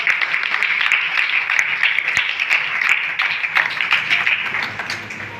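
A church congregation applauding during a prayer gathering, dense sustained clapping from many hands in a hall, loud and continuous, easing slightly toward the end.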